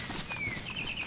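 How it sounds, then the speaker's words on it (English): Birds chirping in the woods in the survival video game DayZ, a thin whistled call sliding downward and then repeating, faint against a steady ambient hiss. "all these bird sounds that you're hearing, they're client side"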